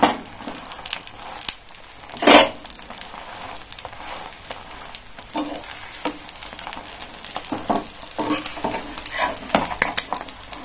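Egg-dipped bread slices for a breakfast egg toast frying in a pan, soft irregular sizzling and crackling with occasional louder pops and scraping, close by, no talking.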